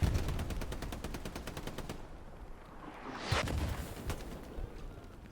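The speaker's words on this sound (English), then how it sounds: "There was an explosion there." An explosion goes off in a tournament match of a shooting game on the Foy night map. It lands as one sharp blast between rapid bursts of gunfire, fairly close and loud.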